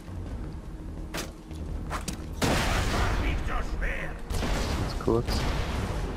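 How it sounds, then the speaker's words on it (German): Two loud, broad rocket launcher blasts in Borderlands 2, each followed by a lingering roar, with brief talking at the start. "Das waren 2 Schüsse mit dem Raketenwerfer."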